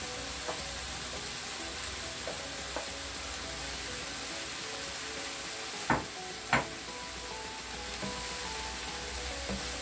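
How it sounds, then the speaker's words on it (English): Cold rice frying with vegetables in a pan, a soft continuous sizzle with occasional light stirring taps and two louder spoon knocks midway. "After 2 minutes, you now add in your cold rice."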